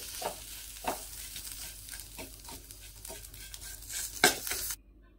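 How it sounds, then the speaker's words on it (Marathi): Tomato and spice masala being sautéed in a pan: soft sizzling with repeated spatula scrapes and stirring strokes at an uneven rhythm, ending in a sharper clatter before cutting off. "आता यामध्ये टोमॅटो घालून घेते आणि हा सगळा मसाला चांगला परतून घ्यायचा आहे।"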